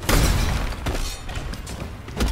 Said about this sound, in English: It's funny when Fire Trap is shattering enemies